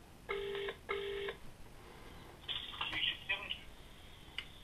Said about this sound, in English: this should ring. It's ringing now.